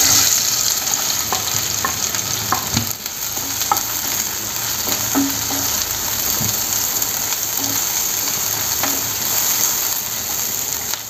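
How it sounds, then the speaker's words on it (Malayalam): Onion hits a hot pan and sizzles in a steady, loud frying hiss that runs unbroken, with scattered faint clicks and scrapes of stirring on top. "ചൂടായ പാനിലോട്ട് നമുക്ക് സബോള ആഡ് ചെയ്യാം"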